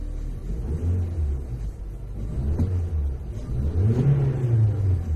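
A Honda car engine on a custom tune with an automatic transmission, revving slowly: a low, close rumble rising and falling, climbing steadily toward the end with no talk.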